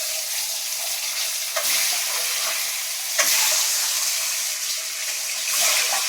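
Spiced boiled eggs drop into hot oil in a wok and set off a steady, close sizzle with a few sharper crackles and spits.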